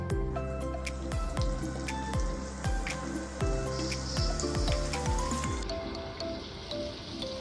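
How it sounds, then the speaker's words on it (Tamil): Chopped onions sizzle in hot oil with fennel seeds in a pan, a steady loud crackle and spitting broken by repeated drip-like pops, close up with no talking. "வெங்காயத்தை நல்லா ஃப்ரை பண்ணிக்கோங்க"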